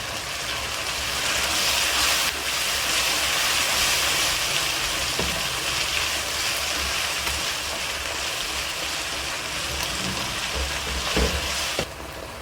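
Chicken frying with turmeric and red chili powder for Punjabi chicken curry gives a steady, close, broadband sizzle throughout. A few faint clinks break it, and it drops off briefly at the end. No talking.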